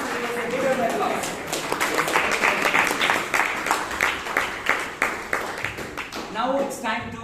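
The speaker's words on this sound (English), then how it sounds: "All the students, give them an applause." Audience applause for students at a Bangalore Toastmasters club meeting, rapid crisp clapping from a room of people, building and then tapering with a few voices at the end.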